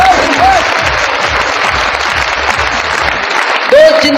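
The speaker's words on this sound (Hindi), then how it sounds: "ताली बजाने में टेंशन क्यों ले रहे हो?" Audience applause at an RCM business seminar, steady dense clapping from a large crowd throughout, with brief background tones near the start and end.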